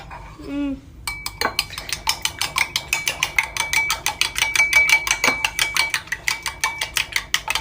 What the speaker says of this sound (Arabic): اخفق البيض، حركه